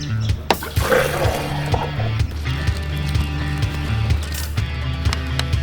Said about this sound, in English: Like filling the water tanks.